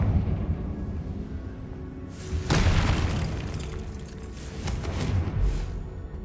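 A Confringo blasting spell in the Hogwarts Legacy video game sets off a deep, booming explosion that rumbles and slowly fades, followed by a smaller second burst.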